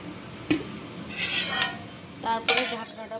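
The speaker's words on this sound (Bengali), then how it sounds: "তারপরে ঢাকনাটা দিয়ে দিলাম" A metal lid clinks and scrapes onto a cooking pot used for steaming golda chingri in mustard oil with green chillies. There is a sharp knock, then two rattling metallic settles, close and moderately loud.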